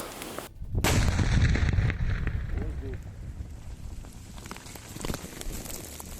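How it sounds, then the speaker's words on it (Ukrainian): A mine detonated by Ukrainian deminers in farm fields near Kherson goes off as a heavy boom, then a long rumbling tail with debris, as someone speaks afterward. "Ми підірвали, да?"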